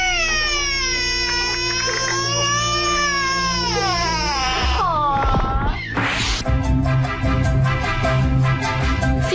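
A baby wails loudly after a toy alligator's mouth snaps shut on its fingers, long rising and falling cries close up, followed by clatter and a rhythmic tapping toy sound.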